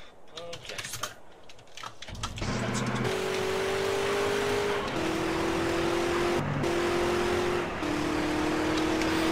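A car engine in the multiplayer game SA-MP starts up after clicking and tapping sounds, then holds a steady loud idle drone with brief pitch shifts, as if revving slightly, continuing to the end.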